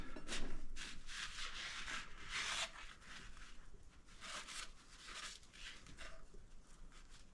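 Close, steady rubbing and scrubbing on a Vevor lathe spindle part from a WM2 headstock, with repeated wiping strokes, louder in the first few seconds and continuing without speech.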